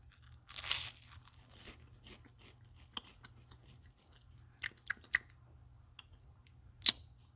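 Crispy toast from a cheap electric toaster being bitten and chewed up close, a burst of crunching followed by scattered quiet chews and a few sharp crackles in a quiet room.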